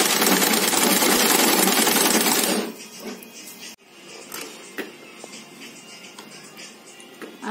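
A sewing machine stitches a round of lace along the bottom of a handmade potli bag, loud rapid whirring for a few seconds, then quieter scattered clicks and handling sounds.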